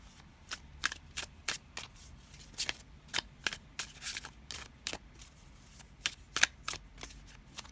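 Tarot cards are shuffled and drawn by hand, making a rapid series of crisp snaps and flutters at close range, uneven in rhythm, with quiet pauses between bursts and no speech.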